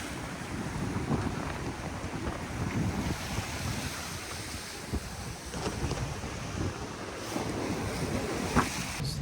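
On a sailboat running under mainsail at sea in a good breeze, wind rushes and waves wash steadily along the hull, with occasional splashes and creaks over the continuous roar.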